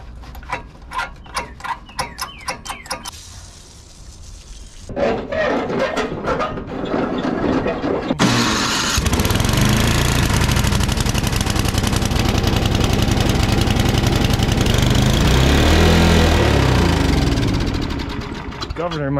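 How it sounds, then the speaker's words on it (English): Small engine after a carburetor repair and a freed choke, pulled over with several rhythmic cranking strokes, then firing up and settling into a loud, steady running drone, with someone talking at moments. "Should fire right up with the carb back on."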